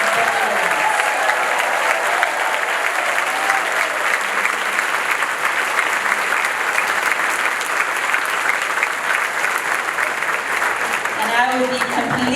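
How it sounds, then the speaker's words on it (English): A Republican meeting audience gives the sheriff a long, steady round of applause, dense continuous clapping with a few cheers that carries evenly throughout. "How about a big round of applause for our sheriff?"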